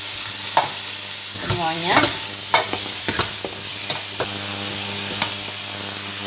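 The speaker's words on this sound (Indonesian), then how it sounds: "Aduk rata" Squid and eggplant stir-fry being stirred in a pan, with a near, steady sizzle and a run of spatula scrapes and knocks against the pan, plus a brief spoken word.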